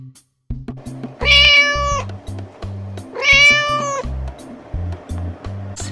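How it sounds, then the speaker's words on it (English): A toy farm animal cat plays two clear electronic meows, each about a second long, over a repeating low toy jingle with short beeps. "What's the sound that the cat makes? Meow."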